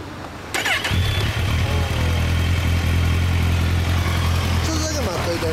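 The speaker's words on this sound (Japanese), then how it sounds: "オッケー、あのエンジン音聞かせてもらえるかな。" A 2012 Kawasaki Ninja 1000 fitted with a Yamamoto Racing Spec-A exhaust starts up and settles into a loud, steady, throbbing idle, close by, with voices talking over it.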